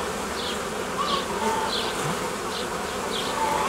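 Honeybees buzzing around a frame of brood and food from a hive, a dense, continuous drone of many wings close by, with individual bees whirring past now and then and no talking.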